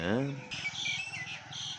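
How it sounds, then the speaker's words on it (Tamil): Birds calling in a peepal tree on a bright morning, with koels, mynas, parrots and crows named, come through as a dense mix of high chirps and tweets over a nearby voice. "குயில், மைனா, பூனில், பச்சை கிளி, இப்படி பல குருவிகள், இங்கே காகம்"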